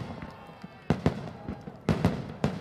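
Fireworks salute at the finale of a festive concert in Tula, several sharp booming bursts in quick succession over a quieter background murmur, at a moderate distance.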